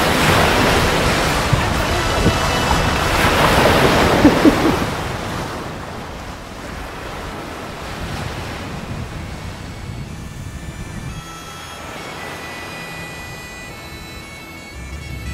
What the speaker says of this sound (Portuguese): Finalmente dentro do mar Egeu.